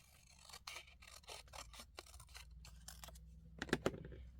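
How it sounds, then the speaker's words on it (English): Scissors snip along a perforated line on a magazine page, a quick run of rhythmic, close papery cuts that fades into a couple of softer rustles and clicks. "so I'm just going to cut that"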